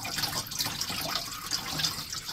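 Water poured from a gallon jug splashes over a slab of Ocean Breeze jasper, a steady broadband wash of liquid hitting stone, close and continuous with no talk.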